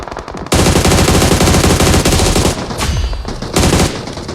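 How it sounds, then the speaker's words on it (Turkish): Loud, sustained automatic gunfire from another player in the mobile battle royale game PUBG Mobile, rapid bursts rattling almost continuously with a short gap near the end before firing resumes. "Lan biri önümden bir yerden sıkıyor ama."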